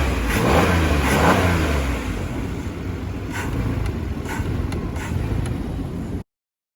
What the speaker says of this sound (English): watch this symptom when I just press throttle quickly